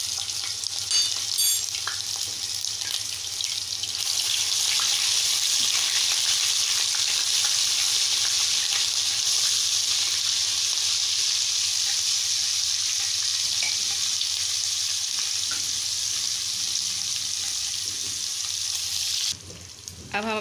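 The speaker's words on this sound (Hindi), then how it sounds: "सबसे पहले हम इसमें लहसुन अदरक का पेस्ट डाल देंगे" Garlic ginger paste, about a tablespoon, fries in half a cup of hot oil in a kadai, a steady dense sizzle that stays loud and even for the whole stretch, with no talk over it.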